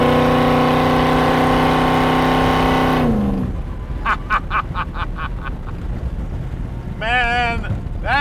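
A 1931 Ford street rod's engine holds a loud, steady high rev, then drops off abruptly into a rough idle punctuated by a string of sharp throttle blips, followed by another brief rising rev near the end.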